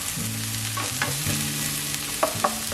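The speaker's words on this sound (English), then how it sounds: "So we put the garlic in and we zhuzh it around." Garlic stir-frying in a warm pan, a steady close sizzle with scraping stirs and a few brief clinks from the utensil, no voices.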